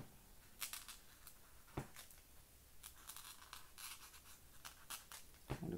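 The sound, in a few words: Posca paint marker scratching on paper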